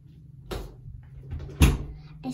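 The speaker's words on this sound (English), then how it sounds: "Close the door." A door is shut indoors during a children's glow science experiment at home. A soft bump is followed by a sharper, close thud in an otherwise quiet room.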